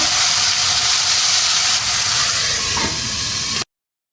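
Yardlong beans fry in hot oil with a loud, steady hiss and sizzle close by, holding continuously for several seconds before stopping abruptly.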